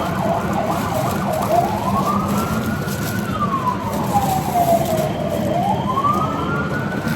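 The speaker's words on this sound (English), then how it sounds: "That siren was an indicator of a disaster coming in." A loud emergency siren wails alone, its pitch sweeping slowly up and down in long rising and falling arcs over a steady background rumble.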